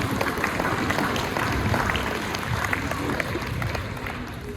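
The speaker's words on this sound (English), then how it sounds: "I hope you guys can give them a round of applause" A crowd at a youth soccer awards event claps and cheers in a broad, steady wash of applause that holds at an even level from start to finish, with some murmuring voices mixed in.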